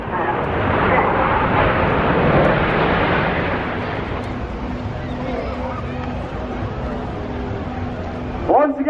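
Red Arrows display jets roar overhead during formation manoeuvres at an air show, a loud broad rushing swell that peaks early then fades into a distant rumble, with a commentator's voice and crowd murmur underneath.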